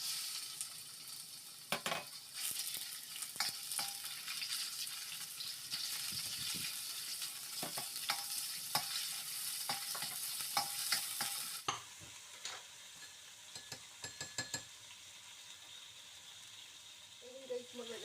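Minced pork fries in a little oil in a pan, giving a bright steady sizzle broken by scraping stir strokes, close up and continuous, easing somewhat toward the end.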